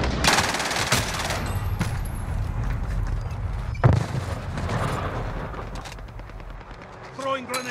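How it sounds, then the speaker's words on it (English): Bursts of automatic gunfire and explosions come from Call of Duty Warzone on Rebirth Island. Loud rapid volleys open the clip, then a heavy boom, then scattered shots, with a player talking over the game sound. "I am under fire."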